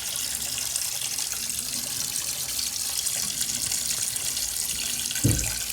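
Hot water tap runs steadily into a sink basin to test the overflow, a continuous close splashing flow with a brief knock near the end.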